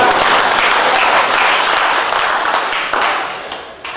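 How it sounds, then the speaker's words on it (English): An audience applauds loudly and steadily for the performer Jeff Joe, a dense wash of clapping that holds for about four seconds and eases slightly near the end. "So, yes, you can clap, it's Jeff, it's St. Joe, put your hands together for that."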